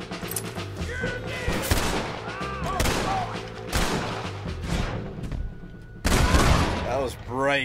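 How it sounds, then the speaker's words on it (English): Gunfire in the Western video game Red Dead Redemption: repeated loud shots and bursts crack over a busy mix of game sounds and music, with heavier blasts near the end. "Guns are blazing."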